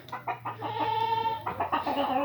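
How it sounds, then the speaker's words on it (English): A hen clucks in short repeated bursts while running with a live mouse she has caught, close and fairly loud, the calls coming in quick uneven bursts with a steady low hum underneath. "So one of our chickens has just got a mouse, and she's running with him"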